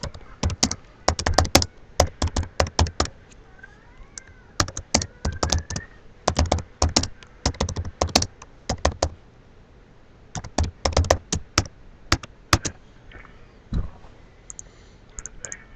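Typing on a computer keyboard, close and alone, in quick clattering bursts of keystrokes separated by short pauses.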